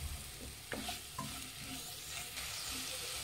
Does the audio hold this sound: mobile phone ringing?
no